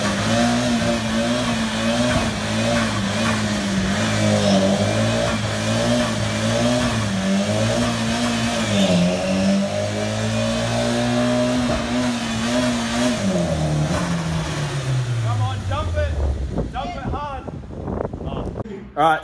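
A Nissan 180SX with an SR engine revs hard in a garage while doing a skid, a loud sustained roar that wavers in pitch and then winds down near the end.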